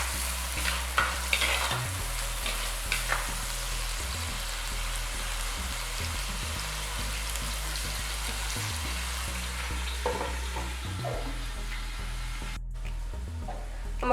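Tuna fish head curry base sautés in a covered pan on low heat, giving a steady close sizzle with occasional stirring scrapes and clinks; no one speaks.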